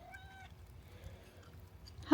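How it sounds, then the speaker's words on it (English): Morris the cat gives a short, clear meow, a few harmonic cries near the microphone, followed by quiet background rustle and a sudden loud thump at the end. "Morris greets me with his meow"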